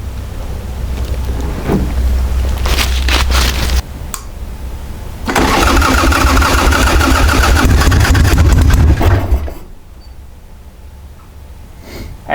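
An Ironhead motorcycle engine, long left sitting with a coughing, sputtering carburetor, cranks and fires, runs loud and uneven with a low rumble, cuts out briefly, catches again and runs for several seconds, then drops away to quiet.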